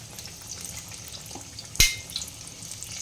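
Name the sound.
capsicum chop frying in oil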